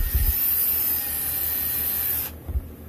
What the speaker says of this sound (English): using a power tool to remove things or install them